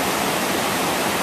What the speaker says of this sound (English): a lot of the water is funneled down through holes out towards the front of the dam